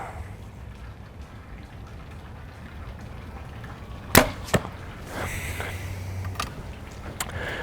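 A Darton Veracity compound bow fired in a backyard gives one sharp thud-pop, followed by a couple of fainter knocks against a quiet outdoor background.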